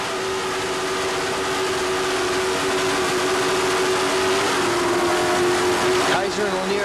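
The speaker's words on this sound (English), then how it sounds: "Listen to that 750 horsepower piece Merc Cruiser motor do its thing." Steady roar of a 750 horsepower Merc Cruiser engine on an offshore racing powerboat, a sustained loud drone with a faint higher whine, continuing under an announcer's voice at a 1988 national offshore championship.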